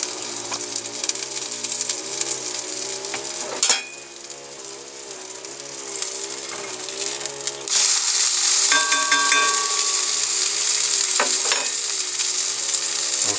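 Steady sizzling and crackling from sausage frying in a hot pan, with occasional clinks and a louder burst of spattering partway through; no voices.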